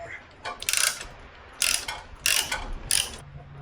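Sharp clicking bursts of a 1/2 inch ratchet loosening a bolt on a 2003 Harley Sportster 1275, four or five quick close ratcheting strokes separated by short pauses.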